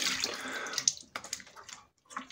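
Tap water running into a sink for a face wash before shaving, a brief close splashing rush that breaks into a few separate splashes and drips.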